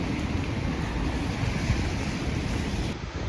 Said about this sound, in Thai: ฝนก็ตกหนาวกันหนาว